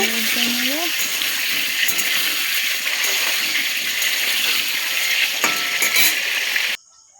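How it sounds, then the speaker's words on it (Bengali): Potatoes fry in hot oil in a pot, a steady close sizzle and hiss running unbroken for several seconds before cutting off abruptly, while a person talks over it. "তেল দিয়ে আলুটা ভালো করে ভেজে নেব"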